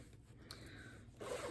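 A zipper with a dragon-shaped pull on a cross-stitch project bag is drawn open in short rasping strokes, close and quiet, with no talking.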